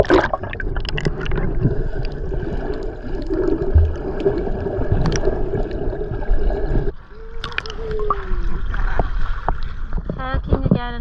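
Kayak paddling through lagoon water, soft gurgling paddle strokes and splashes close by, with a brief quieter stretch before the watery movement resumes.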